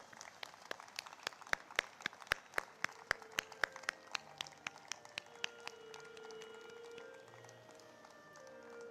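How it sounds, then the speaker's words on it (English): At an art book launch, a small, scattered group claps in sparse, distinct, fairly quiet slaps that bunch briefly, then thin out and fade into a murmuring room. "Let's give a hearty applause."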